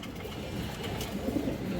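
A domestic pigeon, a chuinna chuithal hen, coos softly in a low murmur amid steady room noise, with no talking over it.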